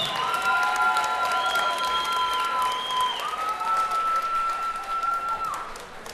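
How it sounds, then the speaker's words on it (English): A crowd at an MMA cage-fighting event applauds and cheers two fighters after their bout, broad steady clapping under sustained tonal whistles or horns that glide between pitches. "massive round of applause on these two fighters"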